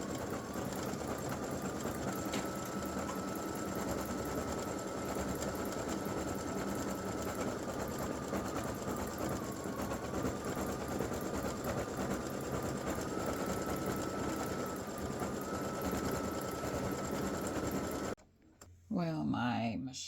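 A home sewing machine runs steadily, stitching appliqué onto t-shirt fabric with a close, continuous whirring hum for most of the stretch, then stops briefly before a short burst of handling noise near the end.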